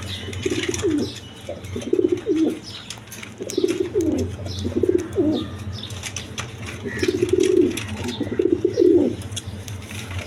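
Danish pigeons coo again and again in short rhythmic bursts right after a female is put in with them, with occasional wing flaps and a low steady hum behind.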